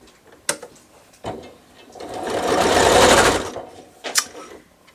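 A sewing machine runs in a short burst, stitching quilt half square triangles for a churn dash block, with a few mechanical clicks and knocks before and after the steady whirring stitch run.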